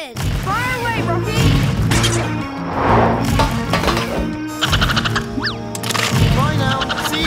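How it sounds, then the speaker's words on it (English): Cartoon peanut launcher in a Paw Patrol scene firing amid a busy soundtrack of smashes, cracks and clinks over music, with characters talking throughout. "Peanut launcher loaded. Fire away, Rocky."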